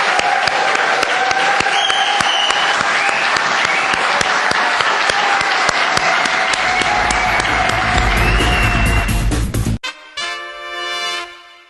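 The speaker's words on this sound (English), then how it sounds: "we really need to give Stephen a round of applause for that fine effort" Audience applause at a poetry festival, dense steady clapping filling the room for about ten seconds before cutting off abruptly into a brief quieter tail.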